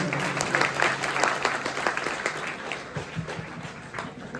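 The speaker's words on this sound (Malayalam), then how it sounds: "കയ്യടി പോരാ." An audience at a felicitation ceremony in Kerala honouring a literacy mission coordinator claps, a dense crowd of hand claps that swells early and then thins into scattered claps over a few seconds, with faint voices underneath.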